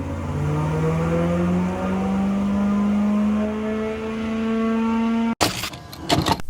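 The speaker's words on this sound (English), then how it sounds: "Even though this is the sound of a crossplane V8" A crossplane V8 engine exhaust revs steadily with a rising, droning tone, loud and close, then cuts off abruptly into a few short bursts of noise.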